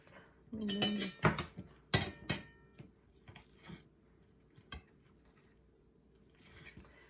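Knife on a cutting board chops cooked turkey meat into pieces, a handful of sharp irregular knocks and clinks up close, thinning to sparse taps.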